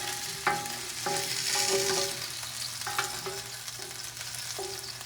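Sausages sizzling and frying in a hot pan, a steady close crackle with occasional clinks and scrapes of a utensil, no voices.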